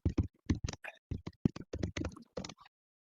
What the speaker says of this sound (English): what keyboard is that?